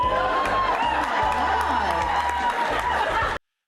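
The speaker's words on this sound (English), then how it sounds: "the crowd starts cheering" Studio audience cheering and laughing through a talk-show moment, a steady dense crowd roar with whoops and chatter mixed under voices, stopping abruptly at the end.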